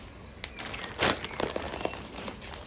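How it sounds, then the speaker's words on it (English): Plastic bag crinkling as items are packed into it, a close, soft rustle with sharp crackly bursts around the middle, alone with no talk. "So I'm going to put those in a plastic bag"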